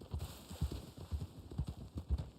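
Horse hooves clip-clopping in the video game Red Dead Online, a steady rhythmic trot of close, moderate hoofbeats with no other sounds.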